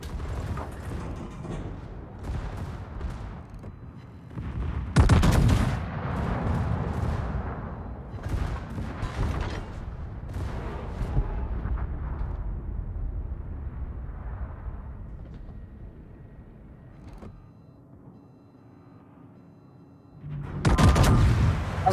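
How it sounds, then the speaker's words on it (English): Battleship secondary guns firing in the naval game World of Warships: a rapid cluster of loud booming blasts, then a rumbling stretch of scattered shots, a quiet lull and a final heavy volley, with no talk. "The secondaries are beastly on this thing."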